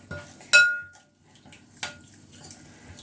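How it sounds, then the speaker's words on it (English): Garlic stirred in a pan for Moroccan tanjia: a sharp metallic clink of utensil on pan, then softer scraping and a second clink, close and fairly quiet, with no talking. "And then you keep stirring"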